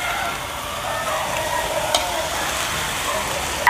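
Pork belly frying until crisp in a pan, a loud continuous sizzle with a short sharp pop midway and a knock at the very end.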